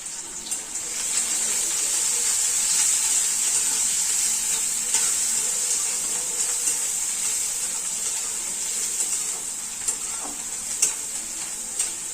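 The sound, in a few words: curry leaves and onion frying in oil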